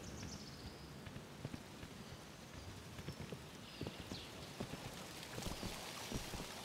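Horse hooves clip-clopping in the video game Kingdom: New Lands, a faint irregular series of soft thuds over a hiss like rain, with no talking.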